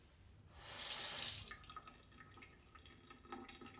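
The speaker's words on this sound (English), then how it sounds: "That's just the drains dribbling." Water dribbling from drains in a quiet bathroom, a steady splashing trickle that swells for about a second and then settles into faint intermittent drips, close and with no talking.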